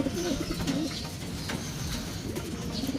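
Racing pigeons coo in a loft, with repeated soft, throaty calls rising and falling throughout, close and steady against a low rustling background.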